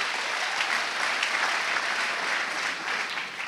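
A church congregation claps steadily in continuous applause during worship, a dense, even wash of many hands with no voices standing out.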